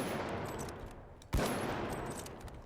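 Gunfire in the shooter game The Finals: a sharp, loud single shot cracks out mid-clip over a steady bed of in-game noise, with only a faint, busy background before it and a lingering tail after.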